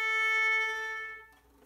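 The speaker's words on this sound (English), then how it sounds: "If we don't rosin our bow, then the hair on the bow won't be able to catch the string, and we'll get a flimsy sound like this." A violin bowed with a bow that has no rosin gives a thin, steady tone with faint overtones. It holds for about a second, then fades out into quiet.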